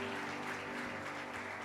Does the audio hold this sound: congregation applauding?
yes